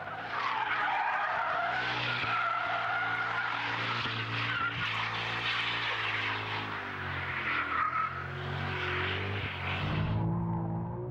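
A Formula 1 car with traction control switched off skids at length, tires squealing and screeching loudly and continuously over a droning engine, with no talk.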